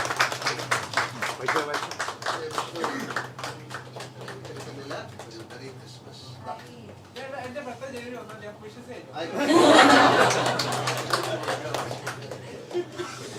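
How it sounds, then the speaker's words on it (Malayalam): An audience at an event where actor Mohanlal meets a blind fan bursts into applause late in the stretch: a dense, moderately loud wave of clapping after people talk over a quieter background. "സോ ഓഡിയൻസ് നല്ലൊരു കയ്യടി കൊടുക്കാം"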